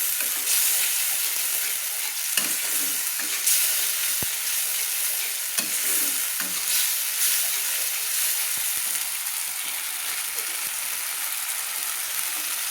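Ginger-garlic paste and ground spices fry in hot oil for an eggplant and prawn dish, a steady loud sizzle running throughout with occasional scrapes and knocks of a spoon stirring the pan.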